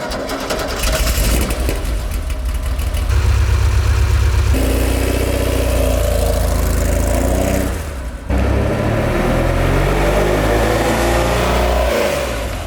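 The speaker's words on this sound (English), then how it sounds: "A 911 SC engine in an old VW Kombi." A Porsche 911 SC flat-six fitted in an old VW Kombi runs loud and close, revving up and settling back through several throttle blips with a brief drop near the end before picking up again.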